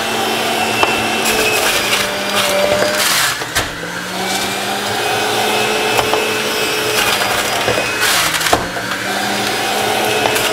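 A 900 to 1,000 watt juicer motor grinds kale and Swiss chard with a steady, loud whir, its pitch dipping briefly around a few moments as leaves load the machine, with no talking.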